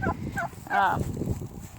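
A few short bird calls from fowl, clucking bursts rising over a low background rumble, with a clear louder cluster in the middle.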